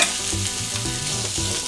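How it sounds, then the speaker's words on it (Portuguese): Loud continuous sizzling of chicken feet browning in a hot pan, with occasional stirring scrapes. "utilize a mesma panela para a gente dourar agora os pés de galinha"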